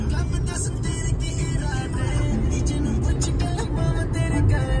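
A Volkswagen Polo, about 13 years old, drives a highway late at night, with steady road and engine rumble and a brief bump of a speed breaker partway through, heard from inside the car.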